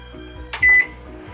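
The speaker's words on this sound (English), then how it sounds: "you pop it in the microwave for 3 minutes" A microwave oven hums steadily, and a single clear electronic beep sounds up close partway through.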